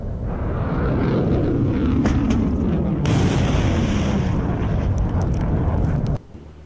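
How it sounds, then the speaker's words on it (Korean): Russian missiles launching in quick succession from a launcher unit, a sustained loud roaring rush with a sharp change partway through, cutting off abruptly near the end. "적기나 미사일이 감지되면 다량의 미사일을 연속적으로 발사 가능합니다."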